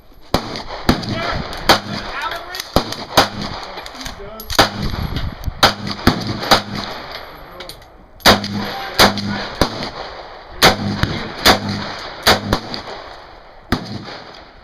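Loud, sharp gunshots crack out in irregular single and paired reports during a drill that moves from shooting to a knife, outdoors with echoing tails.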